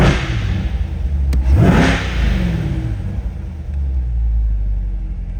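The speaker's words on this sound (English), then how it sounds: "I'll give you a couple revs for you guys" A 2020 Corvette C8 convertible 2LT with the Z51 package revs hard once, the deep engine note rising in pitch and then falling back to a rumbling idle, loud and close.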